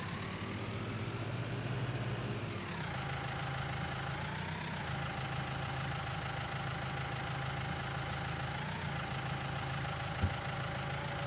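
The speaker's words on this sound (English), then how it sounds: "T4-yard tractor does pretty good." A tractor engine in Farming Simulator 19 idles steadily, then its pitch drops and settles into a constant mid-low drone with slight rises, close and continuous with no talk.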